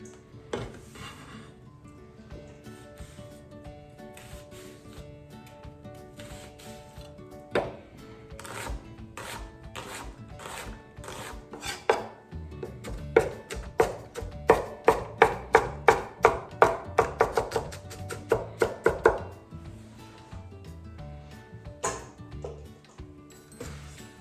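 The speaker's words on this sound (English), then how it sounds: "Destemmed and washed collards. Just kind of rough chop them." A knife chops destemmed, washed collard greens on a cutting board, starting as scattered taps and building into a quick run of loud, rhythmic chops before slowing again.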